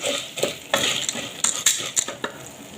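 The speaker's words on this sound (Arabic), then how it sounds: "هشوح الثوم كده مع المكرونه." Garlic sautéing with pasta in a hot pan, a close bright sizzle broken by repeated quick stirring scrapes and clinks of a utensil against the pan.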